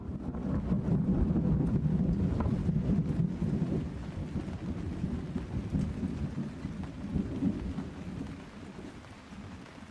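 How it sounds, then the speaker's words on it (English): Heavy rain pours steadily with deep, rolling thunder rumbling underneath, loud and continuous, in the Misericorde video game. "It was pouring now, the stone walls rumbling as rolling thunder shook the mountain itself."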